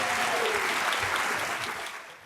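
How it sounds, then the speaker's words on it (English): A warm round of applause greets Chicago Mayor Brandon Johnson at the Cap Times Idea Fest 2024, a full crowd clapping steadily before fading toward the end. "that round of applause"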